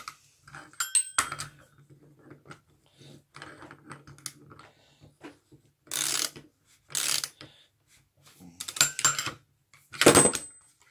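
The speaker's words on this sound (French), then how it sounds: "Je prends mon tourne-cul." Ratchet wrench tightening the variator nut on a 103 SPA moped: bursts of quick metallic clicking come in short separate runs, close and fairly loud, with quiet gaps and faint background noise between them.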